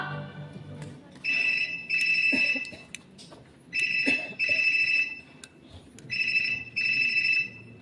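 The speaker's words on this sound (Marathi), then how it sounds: "कोणाचा फोन होतोय काय?" A telephone rings in three paired bursts of bright electronic trilling, loud and close, with short gaps of quiet room noise between them.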